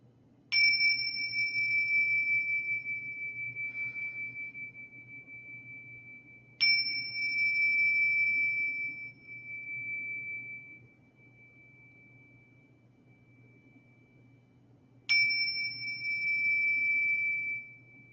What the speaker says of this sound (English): I'm going to ring the mindfulness bells 3 times at the beginning and 3 times at the end of our practice.